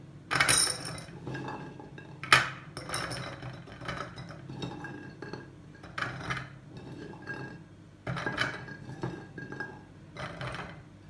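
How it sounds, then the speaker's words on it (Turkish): Chickpeas and plums dropped by hand into a glass jar for plum pickle, giving a scattered series of sharp glassy clinks and rattles, some louder knocks among softer taps, close and clear with no talking. "Şimdi nohutlarımı kavanozumun içerisine atıyorum ve eriklerimi dolduruyorum."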